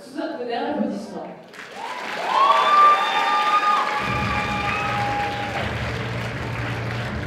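Audience at a cosplay contest in Japan Impact, with a brief voice followed by swelling crowd applause and cheering. Bright whoops and shouts ride over the clapping, and a low rumble of music or effects comes in partway through.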